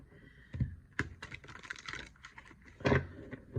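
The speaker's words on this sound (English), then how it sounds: "Let's just shuffle a few times here." A deck of cards being shuffled several times, crisp riffling bursts of papery clicks at close range, with a couple of louder thumps as the cards are squared, no talking.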